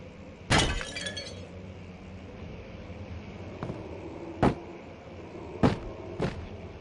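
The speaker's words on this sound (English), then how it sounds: "They don't like me smashing artifacts." A ceramic vase shatters loudly in the horror video game Amnesia. A sharp crash with scattering shards is followed by three or four smaller, sharper breaking or clinking hits over a low, murky game ambience.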